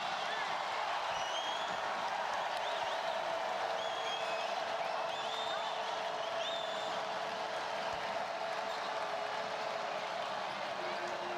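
Basketball arena crowd at a college women's game between TCU and NC State, cheering and applauding in a steady, far-off roar that holds for the full stretch with no break.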